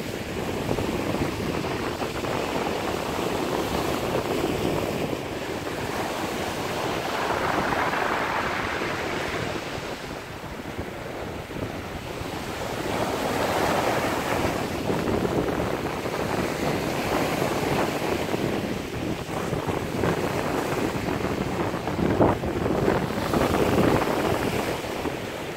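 Cold, breezy wind buffets the microphone while waves wash in and out along the shore at Swanage, a steady roar that surges and fades throughout.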